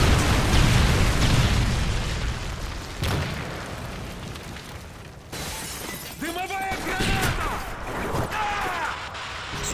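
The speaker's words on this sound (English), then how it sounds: "Friendly Predator missile inbound" A Predator missile strike in Modern Warfare 3 lands as a loud, sustained blast with shattering debris and rumble during an online match, followed by scattered smaller impacts while voices chatter over it.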